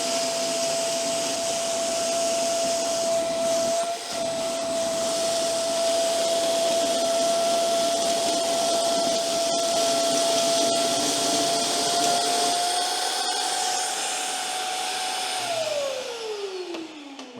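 A wet/dry vacuum cleaner runs at close range with a loud, steady motor whine and rushing airflow, its pitch rising then sliding down as it winds off near the end.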